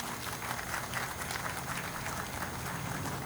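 Steady, dense applause from a crowd at the opening ceremony of a new Metra station in Harvey, Illinois, sustained at an even level throughout with no voices standing out.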